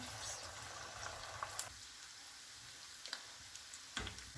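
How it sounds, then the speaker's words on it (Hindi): Garlic potato bites deep frying in hot oil, giving a soft, faint, continuous bubbling sizzle with occasional small pops and crackles. "इसमें एक एक पोटैटो बाइट्स डालेंगे और गोल्डन फ्राई करेंगे।"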